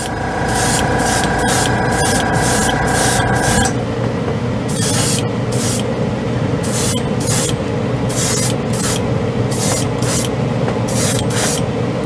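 Airbrush spraying Mr. Hobby Aqueous Gundam paint at lowered air pressure, a steady close hiss in repeated short bursts with a brief continuous spray at the start, no voices.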